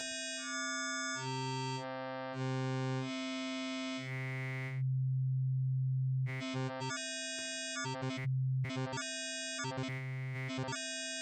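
A sustained synthesizer note cycles through eight waveforms, changing timbre in distinct steps from buzzy to pure to bright tones, played alone and fairly quiet.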